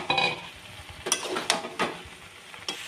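Jackfruit and fried potatoes are sautéed with coconut and spices in a pan, a soft sizzle broken by several sharp scrapes and clinks of a spoon against metal, close up and with no one talking.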